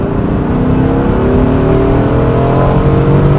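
A 1991 Chevrolet Corvette ZR1 coupe on old tires pulls hard, its engine holding a loud, continuous, rising drone from inside the car as it accelerates, with no pauses.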